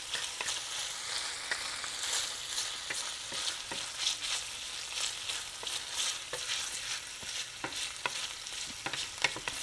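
Bacon frying gently in a ceramic skillet for fried rice, a soft continuous crackling sizzle dotted with small pops, fairly quiet and with no voices.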